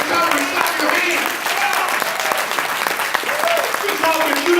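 Audience clapping hands during a recovery talk at a university, loud sustained applause filling the room with a voice heard faintly over it throughout.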